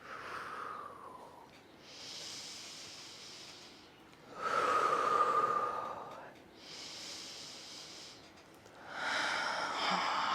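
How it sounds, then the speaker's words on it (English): Slow, deep breaths during a calming seated yoga practice, four or five long airy inhales and exhales in an even rhythm, close and soft with no talk over them. "A few more breaths just like this."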